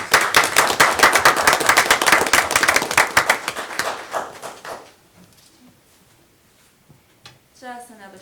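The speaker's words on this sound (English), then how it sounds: "Let's give them a round of applause." An audience at a December school board meeting claps steadily for several seconds. The applause thins and dies away into quiet, and a voice begins speaking near the end.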